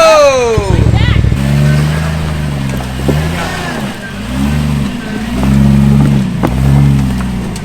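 A Jeep off-roading on a 4x4 trail gives a rising and falling mechanical whine from its power steering pump over the engine drone, heard close, as people talk over it.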